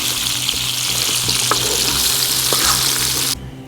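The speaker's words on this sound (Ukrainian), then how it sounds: "Поки картопля смажиться, нарізаємо цибулю." Potatoes sizzle steadily in a hot pan, a dense continuous frying hiss with a soft low hum beneath, cutting off abruptly near the end.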